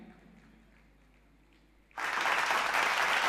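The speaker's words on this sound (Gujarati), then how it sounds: "આપણે સૌ એમને તાળીઓથી વધાવશું." After a quiet stretch, a hall of people at a student award ceremony suddenly bursts into loud, dense applause that continues to the end.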